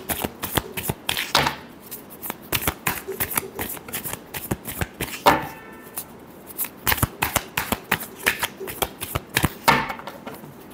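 A deck of tarot cards is shuffled by hand close up, giving rapid riffling bursts of crisp flicks and slaps that repeat in quick rhythmic runs with short pauses between them.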